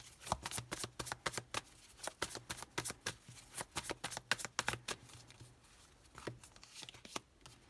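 Tarot cards are shuffled by hand in quick, crisp riffling bursts, close and clear, falling into an uneven rhythm of sharp flicks with a faint hum beneath.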